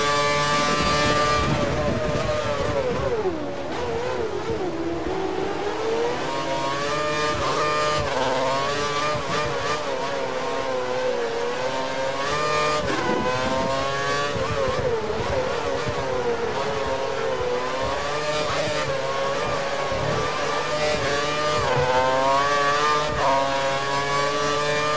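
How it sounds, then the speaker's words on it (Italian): Formula 1 race cars in the video game F1 2013 at the German Grand Prix, Hockenheim, scream loudly and continuously, their engine pitch rising and falling through repeated gear shifts and revs, with no talk. "Sospettiamo che la vettura alle sue spalle abbia impostato il motore sulla massima potenza."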